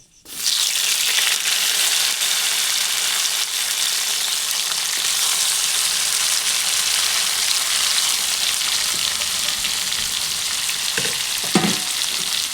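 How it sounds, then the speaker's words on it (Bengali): Chopped tomatoes fry in hot oil with panch phoron, giving a steady loud sizzle throughout, with a few soft stirring scrapes near the end. "তো টমেটোটা এখন কিছুক্ষণ ভেজে নিচ্ছি"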